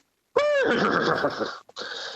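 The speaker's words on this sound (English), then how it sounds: "you see some guys riding around some horses" A horse in a battle scene from a film about Alexander the Great lets out a loud, close whinny that rises and falls, followed by a brief second burst.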